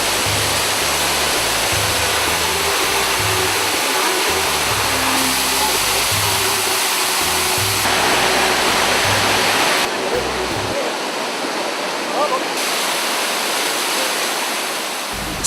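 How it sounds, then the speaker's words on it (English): Steady, loud roar of the Duden waterfalls in Turkey, heard from the foot of the falls as a continuous broadband rush of falling water with no break. "sitting at the foot of the Duden waterfalls in beautiful surroundings"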